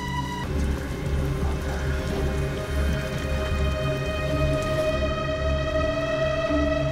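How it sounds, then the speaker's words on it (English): Steady rain pours in the video game Detroit: Become Human, a dense, even hiss that stays constant and fairly loud throughout, with a low rumbling hum underneath and no voices. "Nobody's gonna notice that they can hear the rain now."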